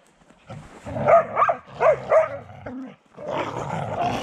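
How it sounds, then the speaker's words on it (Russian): Laika dogs barking outdoors in winter snow: several close, lively barks and yips come in bursts, with a short pause before a denser stretch of barking. "А здесь пока пусть просто лаечки бегают."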